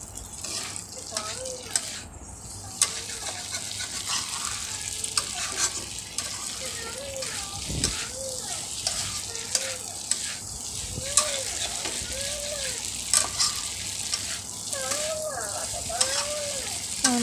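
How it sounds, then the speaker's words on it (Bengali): Butter pasta with cheese is stirred in a frying pan, sizzling steadily with scraping, wet stirring strokes close by, while someone talks over it intermittently. "চিজটা দিয়ে ভালোভাবে নেড়ে চেড়ে নেব।"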